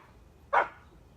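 A single sharp dog bark, fairly close and loud, standing out briefly against a quiet background.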